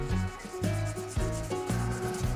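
A hand rubs briskly along a multi-coloured shaving brush handle, producing rhythmic back-and-forth friction strokes roughly twice a second, close and fairly quiet with no voices.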